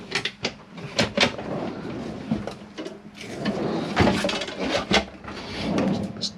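Wooden drawers in a Chausson Flash 10 motorhome sliding open and shut several times in quick succession, with knocks and thuds as they close, close by and fairly loud.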